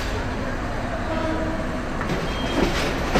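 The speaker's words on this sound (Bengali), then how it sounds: "এই যে ঢাকা বিমানবন্দর রেলওয়ে স্টেশন" Trains at Dhaka Airport railway station give a steady loud rumble, with a brief rise of noise toward the end, no talk.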